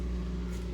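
A Honda Civic engine idles a little high, a steady close low hum with a constant tone and no variation over the brief moment.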